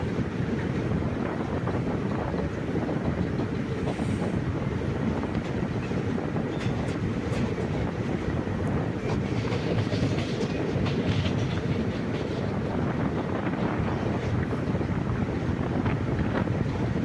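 Riding the Sengottai Express from Thanjavur toward Madurai in an unreserved coach: a continuous rail rumble with clickety-clack wheel beats and heavy wind buffeting the microphone, steady throughout with no talking.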